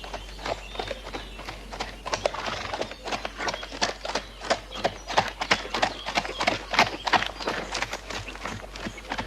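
Horse hooves clip-clop through a scene from the 1981 French film Le Maître d'école, where a man on horseback appears, with steady rhythmic hoofbeats, a possible whinny and faint voices amid a background hum.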